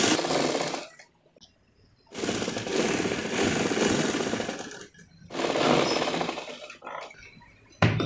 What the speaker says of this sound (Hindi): यहाँ पे जो है सिलाई लगा देना है।